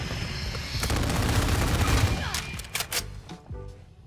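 Shotgun blasts in a shooter video game fire in a rapid burst of loud, close reports, then a few scattered shots trail off as the action quiets down.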